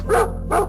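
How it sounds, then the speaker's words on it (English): A dog gives two short, close barks in quick succession, loud and clear with nothing else around them. "Dog."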